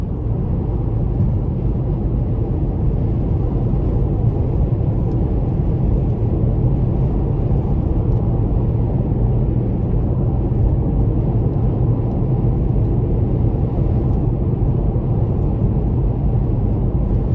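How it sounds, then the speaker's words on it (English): A 2018 Porsche Panamera turbo V6 accelerating, heard from inside the cabin as a loud, steady low engine rumble with road roar that holds without a break. "this turbo V6 does a really good job at accelerating"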